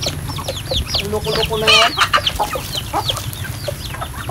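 Farm chickens cluck and chatter close by in a steady, busy stream, with a rooster-like call and higher bird chirps mixed in, while a person speaks briefly over the flock.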